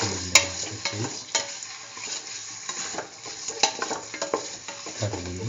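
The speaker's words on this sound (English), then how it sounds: "Mix chicken in the mustard paste." Repeated stirring and scraping of chicken in mustard paste in a hot pan with a steady sizzle underneath, a few sharp clinks of a utensil against metal, close by.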